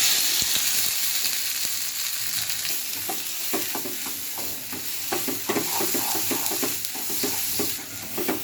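Mustard oil fries with two dried chillies and a ground paste in a pan, a dense continuous sizzle close by with frequent spatula scrapes and taps, no one speaking.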